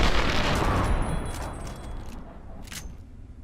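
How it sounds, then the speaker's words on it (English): A double-barreled shotgun blast in Fallout 3, fired point blank: a loud, dense burst of gunfire at the start that rolls into a decaying rumble, with a fainter sharp crack near the end. "Considering I shot you point blank in the neck with a double-barrel shotgun."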